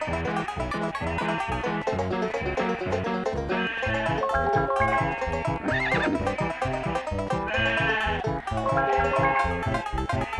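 Sheep bleating as a sound effect in the Rugrats Studio Tour video game, repeated bleats over a dense, loud layer of game music, with no talking.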